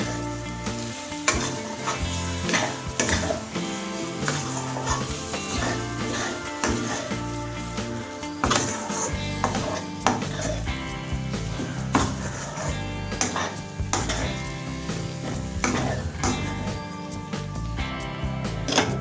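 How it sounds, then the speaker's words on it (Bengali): Lentil paste for dhokar dalna is stirred in a pan over a low flame, a continuous close sizzle broken by repeated spatula scrapes and knocks against the pan. "সমস্ত ডালের পেস্টটা অ্যাড করার পর এটাকে লো ফ্লেমে কিছুক্ষণ নাড়াচাড়া করব।"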